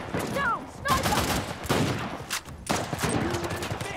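Rapid bursts of gunfire, including shotgun blasts, in the video game Uncharted: The Lost Legacy, dense overlapping shots with a voice speaking over them.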